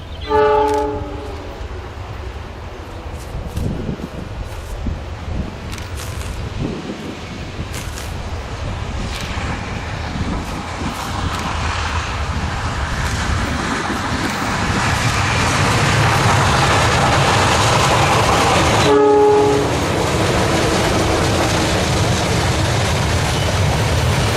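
A locomotive sounds its multi-tone horn, then rumbles past with growing loud rail clatter and wheel noise, the horn blaring again briefly near the end over the roar of passing cars.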